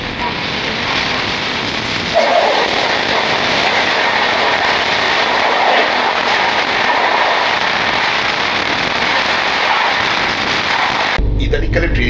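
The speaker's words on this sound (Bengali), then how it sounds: "আমাদের সঙ্গে এবার দেখা হবে পূর্বা এক্সপ্রেসের সঙ্গে।" The Purba Express passing, heard from inside a moving train: a loud, continuous rushing rumble with faint rail clatter that swells slightly after a couple of seconds and cuts off abruptly near the end.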